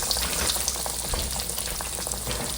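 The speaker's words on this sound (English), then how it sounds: "So I'm gonna lay this in here in this hot grease" Catfish frying in hot grease, a dense, steady crackling sizzle with fine popping throughout, close and fairly loud, with no talking.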